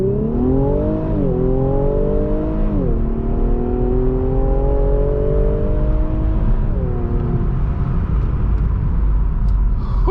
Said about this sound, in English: You just foot on the brake and gas the throttle.